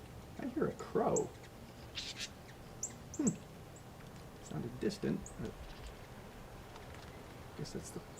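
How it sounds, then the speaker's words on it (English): A cardinal gives sharp, high chip notes in short scattered bursts, picked up through an amplified microphone outdoors. Low voices and other faint bird sounds come in between the calls. "You can hear the birds a little better. Cardinal."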